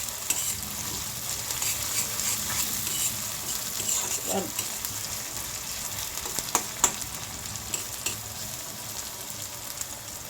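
Onions fry on high heat for doi katla, a constant close sizzle with scraping stirs and a few sharper clicks from the spatula. A brief voice is faintly heard under it.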